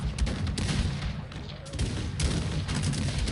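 Dragoons in the strategy game Cossacks 3 fire volleys of musket shots in a battle, dense overlapping crackling gunfire and booms rolling continuously, with a commentator's voice faintly underneath.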